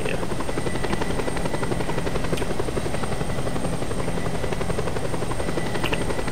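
A helicopter in the video game Just Cause 2 drones steadily and loudly with a continuous buzzing rotor roar throughout, with no break.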